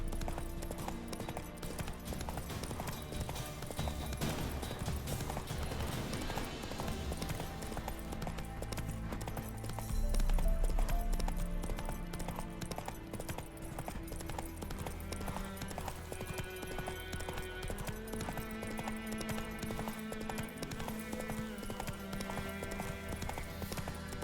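Horse hooves clip-clop in a rapid galloping rhythm while riding in The Witcher 3, continuous throughout with game music and ambience underneath and a brief louder swell midway.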